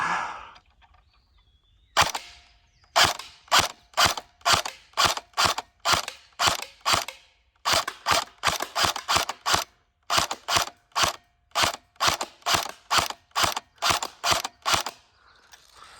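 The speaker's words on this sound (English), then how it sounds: "let's go and get into the actual shooting of this here on semi-auto" An M16A1 airsoft rifle fires on semi-auto in about two dozen sharp, close, loud shots, spaced roughly a third of a second apart in quick uneven bursts with a brief pause midway, and no talking.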